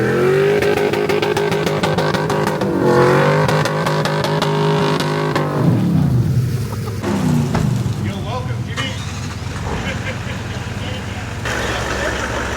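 LS-swapped Nissan Patrol 4x4s rumble along an off-road track, their V8 engines droning and revving loudly and shifting pitch as they pass, with people talking over the engine noise.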